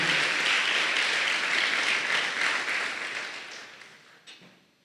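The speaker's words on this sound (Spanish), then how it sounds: "Dale fuerte el aplauso al Señor" A church congregation at a Spanish-language service applauds, a dense, sustained wash of many hands clapping that holds steady and then gradually fades out near the end.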